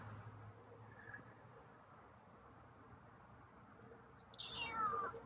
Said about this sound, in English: Oh, another meow.